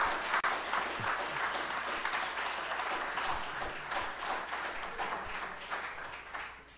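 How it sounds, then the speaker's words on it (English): Live audience at a talk gives sustained, fairly distant applause, dense clapping with occasional sharper claps, slowly tapering off toward the end. "I think that was the loudest applause that we had tonight, and it was totally unsolicited."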